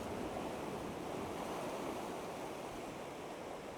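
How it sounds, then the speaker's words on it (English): Ocean waves surge in on an incoming tide, a steady, loud wash of broadband surf with no gaps, close to the shore and alone without voices. "the rogue waves that are coming in here are really coming up"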